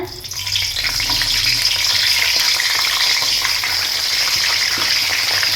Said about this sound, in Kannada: ಈಗ ಬದನೆಕಾಯಿ ತೊಳೆದಿಟ್ಕೊಂಡಿರೋಂಥ ಬದನೆಕಾಯಿನ ಎಣ್ಣೆಲಿ ಹಾಕ್ಕೊಂಬಿಡೋಣ